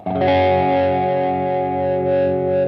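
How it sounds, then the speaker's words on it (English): An electric guitar through a Dunlop Crybaby Q Zone fixed wah pedal rings out a thick, sustained chord with a nasal, biting midrange tone, loud and close with no talking. "a really, really nasal, snorting and bitey wah"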